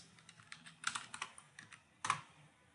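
A folder name typed on a computer keyboard, a quiet, close run of irregular key clicks with a couple of harder strikes, no voices.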